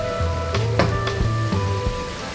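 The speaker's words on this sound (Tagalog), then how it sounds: "Ipiprito na natin." Fish fries in oil with a continuous crackling sizzle like steady rain, over faint background tones and a low intermittent hum.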